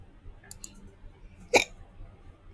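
A single sharp, close hiccup sounds amid a Roblox MeepCity game, with a few faint ticks earlier and quiet background noise.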